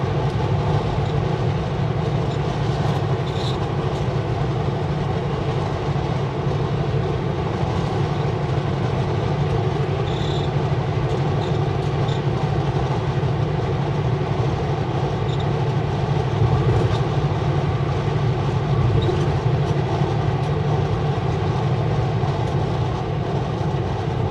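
A long freight train loaded with potash rolls steadily past, a continuous heavy rumble of rail cars with faint clicks and squeals over the wheels, sustained and close for the whole stretch with no voices.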